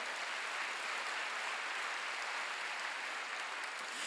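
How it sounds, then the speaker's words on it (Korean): Steady, even applause from a church congregation during a Sunday worship service, a dense wash of clapping at moderate level lasting a few seconds without audible speech. "박수"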